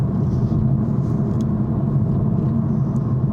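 A 2023 Toyota GR Supra with a manual gearbox, driven on a winding road with its throaty engine and exhaust drumming as a steady low rumble heard from inside the cabin, with no talk.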